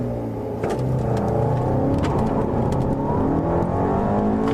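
A 2013 Volkswagen CC R-Line accelerates from a launch, its engine droning steadily and loudly from inside the cabin as the revs build, with a continuous hum and no talking.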